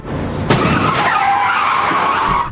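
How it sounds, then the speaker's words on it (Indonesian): A car skids on the road with a sustained, rising tire squeal and a sudden loud impact as it crashes into another car, then the squeal carries on close and loud. "sialnya lagi mobil Erin ketabrak mobil lain"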